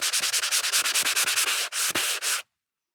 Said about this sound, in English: We're doing a light sanding until you feel it and see